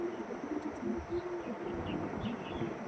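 An Andhra pigeon, a single male bird from a pure breeding line, coos in low, steady murmurs that repeat throughout, with faint chirps in the background and no talking.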